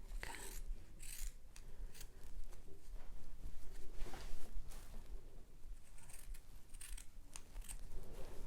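Scissors snip fabric corners at an angle for a handmade baby gift, giving a run of close, crisp cuts in an irregular rhythm, quiet overall and heard alone.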